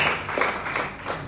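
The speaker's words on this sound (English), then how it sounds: "Please say round of applause" An audience at a journalists' media retreat and awards event claps briefly, a few scattered, uneven claps that rise and fall over about a second, fairly close and moderately loud.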